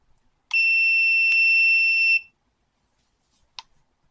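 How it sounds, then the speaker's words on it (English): Multimeter continuity beep while testing a headlight bulb: one sharp, steady high-pitched tone lasting under two seconds, then silence and a brief click. "When you get that beep on that multimeter, that means the bulb is good."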